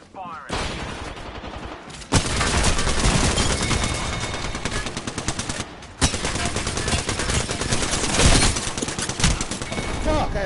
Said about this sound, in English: Stand back, knuckle cluster firing.